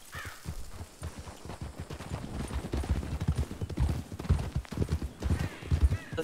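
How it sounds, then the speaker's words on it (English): A horse's hooves clip-clop in a steady, even walking rhythm, fairly close and moderately loud, with no voices over them. "Let me get off my horse."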